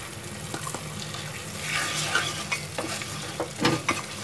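Homemade pizza sauce with added sugar simmers over a low flame in a pan, giving a soft steady sizzle with scraping stirs and gentle clinks, close and fairly quiet, with no talk.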